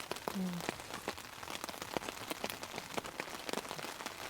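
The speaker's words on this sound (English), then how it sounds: "The rain is starting to slowly pick up." Light rain pattering at a wilderness campsite, scattered drops tapping irregularly at close range, fairly quiet, with no talking.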